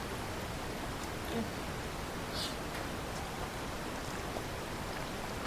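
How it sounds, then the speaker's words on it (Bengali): Soft, steady patter of light rain in an outdoor courtyard, a continuous hiss with a few faint drips, no voices. "বাইরে আঙ্গনে হালকা বৃষ্টি হচ্ছে"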